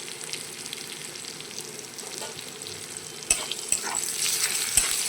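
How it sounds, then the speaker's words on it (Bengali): Slices of pointed gourd (potol) fry in hot oil in a home kitchen pan, a steady close sizzle with occasional sharp clinks and stirring scrapes, no talk. "আপনারা এইভাবে বাড়িতে পটল ভাজবেন"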